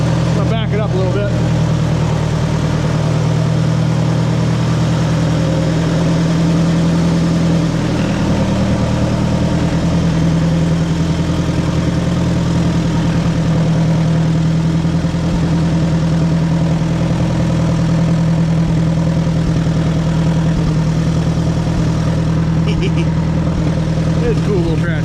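Oliver 550 tractor engine idling, a steady low chugging rumble that runs continuously and close by, with no break in the even drone for the whole stretch.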